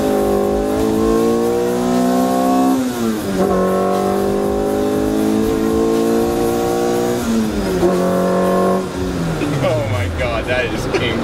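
A classic Mini Cooper with a B18 engine swap accelerates hard, its loud engine note climbing in pitch and dropping sharply at each gear change, three shifts in all, up close.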